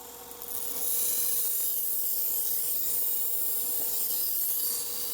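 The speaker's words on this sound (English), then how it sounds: "I'm going to go ahead and do the sharpening. And come in, put the new Apex bevel right on top." Blade of a K-tip knife drawn steadily across a sharpening stone while a new apex bevel is laid on, giving a continuous close rasping rub with faint strokes, no talk.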